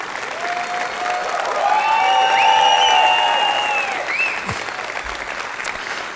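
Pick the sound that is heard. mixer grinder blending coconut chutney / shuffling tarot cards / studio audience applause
studio audience applause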